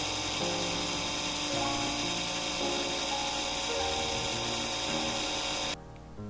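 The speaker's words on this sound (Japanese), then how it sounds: "ドリルレースで削りました。" A drill lathe whirs and grinds steadily with shifting metallic tones as a small metal pipe for a model railway car headlight is cut, then the cutting stops abruptly near the end.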